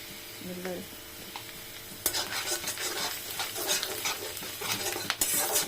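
Onions frying in oil with turmeric and other ground spices being stirred in, a close sizzle that swells after a quiet start, with scraping stirs and occasional utensil knocks against the pan.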